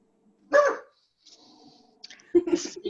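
In a quiet indoor room, a pet dog lets out a short sharp bark, then after a pause a small whine and another brief bark-like yip, all fairly soft in the background.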